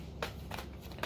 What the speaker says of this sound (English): I'm just going to give these a 3 shuffle.